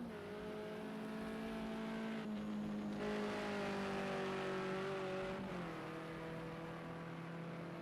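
A touring race car engine drones steadily in a sim racing game at the Bannochbrae circuit, holding a loud continuous tone with small pitch shifts as gears change, no voices over it.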